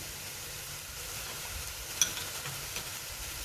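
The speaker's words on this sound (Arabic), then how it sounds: "هنقلب البهارات مع البصل والثوم بالشكل ده." Spices such as turmeric or curry powder, pepper and cumin are stirred into onion and garlic frying in a pan, giving a soft, steady sizzle with faint scraping and one small clink, quiet and without talk.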